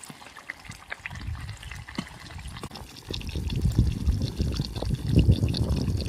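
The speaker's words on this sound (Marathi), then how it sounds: "आता मासे साफ करून घेते," Water splashing and trickling as tilapia are washed by hand at a riverbank, a continuous close wet sloshing that grows louder and busier in the second half.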